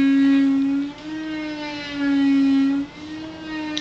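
Construction power tool in Maui, something like a sander or cutter, whining at a steady pitch with a strong buzzing tone, surging louder and easing back in repeated cycles.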